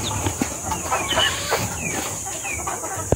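Sweater gamefowl roosters at a small backyard poultry farm cluck and call in a busy, overlapping chatter close by, with a steady high hiss of insects in the background.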